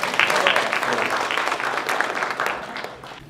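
A crowd at a public input session claps in a steady burst of applause, fairly close and continuous, fading slightly at the end.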